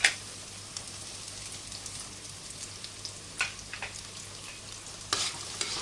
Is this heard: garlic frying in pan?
yes